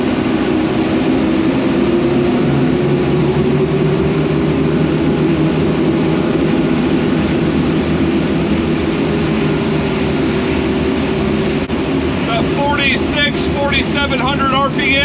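A performance center console boat runs on plane across a bay, its engine drone steady and loud throughout with heavy wind and water rush; a voice speaks briefly near the end.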